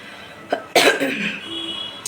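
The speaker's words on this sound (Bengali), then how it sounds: "এত কাশি হয়েছে না, বাপরে বাপরে।" One person coughs in a short burst of two or three harsh, close coughs followed by a softer throat sound, in a quiet home kitchen during meal preparation.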